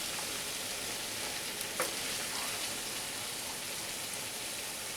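Green chilli and ginger pastes hiss in hot oil in a pan at a steady, dense sizzle, nearby and fairly loud, with a faint clink from stirring.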